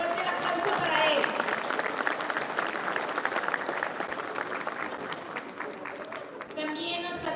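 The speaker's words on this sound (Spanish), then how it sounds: "Fuerte el aplauso para él." Audience applause at a queen election pageant in San Mateo, Valparaíso, Zacatecas: steady, dense clapping from a crowd lasting throughout, with a voice speaking over it at times.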